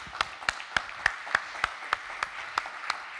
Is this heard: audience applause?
yes